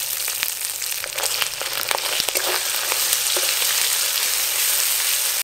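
Cumin paste frying with ginger paste in hot oil, with a dense, loud crackling sizzle broken by sharp spattering pops and stirring, close by and without speech.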